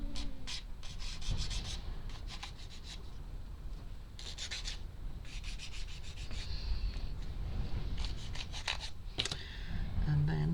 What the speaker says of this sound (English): And sand it down.